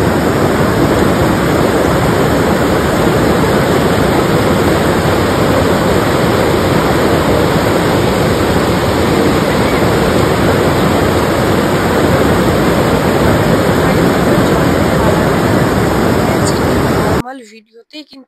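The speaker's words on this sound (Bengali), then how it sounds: "তো এখানকার শুধু জলের আওয়াজটা দেখো" Loud, steady rush of river water in Pelling, Sikkim, filling the whole stretch as a dense broadband roar that cuts off abruptly near the end.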